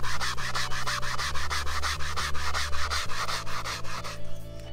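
Stiff scrub brush scouring a caked-on, dirty golf cart seat, a fast steady run of rough back-and-forth strokes, close and loud, with a faint low tone running underneath.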